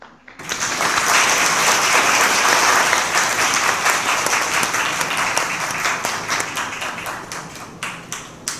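Sustained, loud applause from a graduation ceremony audience fills the hall, rising quickly and holding steady before thinning into scattered claps near the end.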